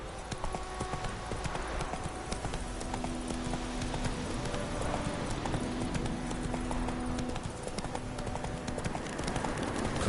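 Roach, Geralt's horse in The Witcher 3, clip-clops along at an even walking pace, the hoofbeats steady and moderately soft over a low outdoor game ambience.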